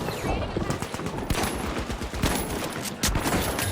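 Dense automatic gunfire and sharp shots ring out in the video game The Finals, rapid overlapping bursts filling the whole stretch, loud and close, with a voice briefly speaking underneath.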